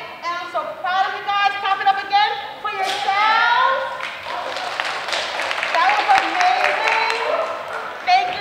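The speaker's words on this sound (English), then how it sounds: "Clap it up again for yourselves." Schoolchildren at a winter concert clap for themselves after a performance, a lively round of applause from a young audience rising under an adult speaking over it.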